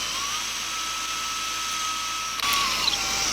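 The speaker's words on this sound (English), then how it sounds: "we're gonna pop into the middle with an 1/8" bit" A small drill with a 1/8-inch bit bores through epoxy, making a steady high-pitched whine that shifts and roughens near the end as the bit breaks through.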